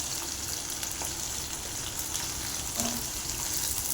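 Small shallots, with garlic soon added, fry in a pan as a continuous, even sizzling hiss close by, with a faint clink near the end.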